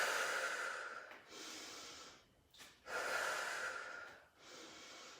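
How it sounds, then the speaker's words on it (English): Deep, steady breaths in and out during a light prenatal and postnatal core workout, three long airy exhales separated by brief quiet inhales, close and clear with no talking. "Breathe out, breathe in."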